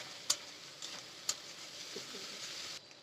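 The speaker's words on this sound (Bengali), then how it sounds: "লঙ্কার গুঁড়োটা দিয়ে একটু নাড়াচাড়া করছে" Chilli powder and spices frying in a pan for an egg curry while being stirred, a faint steady sizzle with a couple of sharp clicks from the spoon.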